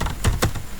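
A couple of close keyboard keystrokes, two distinct clacks in quick succession over a faint room hum.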